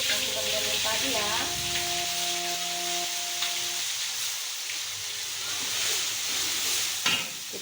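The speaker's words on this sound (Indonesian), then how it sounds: "Kita tumis bumbu yang kita blender tadi ya." Blended spice paste for fried Batak noodles hits hot oil in a pan, giving a steady broad sizzle with stirring scrapes; a humming tone fades out after a few seconds while the frying continues.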